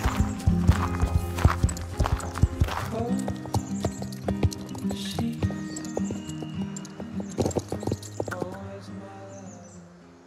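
Horse hooves clip-clop at a steady walking pace near a stable, with a whinny rising over the repeated knocks and faint background sounds.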